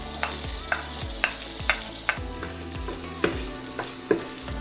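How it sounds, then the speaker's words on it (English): Onions fry in oil in a frying pan, a steady sizzle with a spoon stirring and scraping in regular strokes, close and alone without talk. "I put oil here in the frying pan and we will start with onions."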